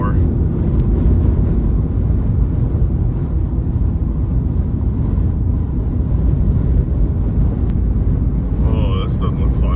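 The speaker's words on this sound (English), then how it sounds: "I mean, you can just hear this wind." Strong, gusty wind roars through an Arizona dust storm with haboob-like conditions, a loud continuous low rumble of buffeting against the microphone that swells in gusts, with faint traffic underneath.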